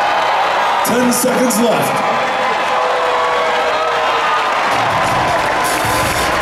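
A dense crowd applauds and cheers steadily at the Arnold Classic 2017 strongman final, with an announcer's voice speaking over the noise.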